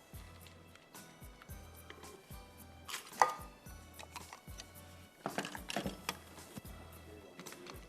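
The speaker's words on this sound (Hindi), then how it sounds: "अच्छा, अब आपको इसमें डालना है 2 डबल रोटी की स्लाइस चॉपराइज करके" Knife chopping two slices of white bread on a board, a steady run of close, crisp thuds with a brief flurry of quicker strokes near the end.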